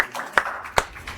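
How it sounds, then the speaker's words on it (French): A few sparse, separate hand claps sound at a contest show as a participant is applauded, thin and close with gaps between them. "Applaudissez-le"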